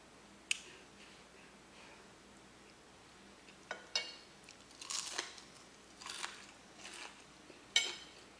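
Eggs and bacon being chewed during a twelve-egg, twelve-bacon eating challenge: scattered close, soft crunching and biting sounds come at irregular intervals with no talking.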